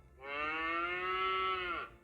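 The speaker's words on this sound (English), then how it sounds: "and the brown Swiss cow" A Brown Swiss cow gives one long, steady, loud moo lasting nearly two seconds, close and clear with no talk over it.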